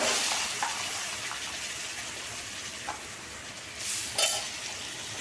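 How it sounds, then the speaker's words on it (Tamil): Broad beans being sautéed with brinjal and potatoes in a pan, giving a soft, steady sizzle with a few louder stirring scrapes near the end and no talking. "எல்லாத்தையும் ஒன்று சேர வதக்கலாம்"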